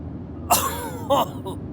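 Two coughs, the first a bit longer and the second short and throaty, followed by a faint throat sound, close to the mic.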